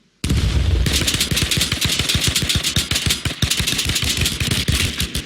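Rapid, loud gunfire rattles through a battle royale video game, a long continuous burst of automatic shots with steady rhythm from start to finish, with no talking.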